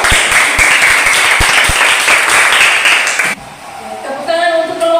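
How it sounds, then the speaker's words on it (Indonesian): A room full of people claps steadily for a few seconds, then the applause stops abruptly and a voice begins speaking. "tepuk tangan dulu"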